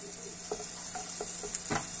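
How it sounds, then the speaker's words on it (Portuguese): Soup sautéing in coconut oil with seasoning, a steady soft sizzle broken by a few light stirring scrapes of a utensil in the pot, close and moderately quiet. "Vamos refogar aqui com tempero"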